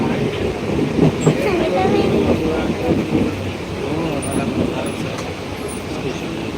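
A Rajdhani Express passenger train rumbles past nearby with a continuous heavy roar and faint rattling of the cars, while people talk over the noise.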